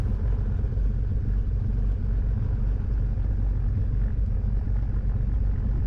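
Small airplane taxiing out after a heavy rainstorm, a steady low engine rumble that stays constant and loud throughout, heard from inside the cabin with no voices.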